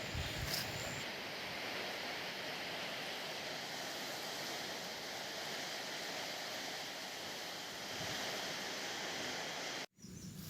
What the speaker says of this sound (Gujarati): અરે બહુ ભારે વરસાદ છે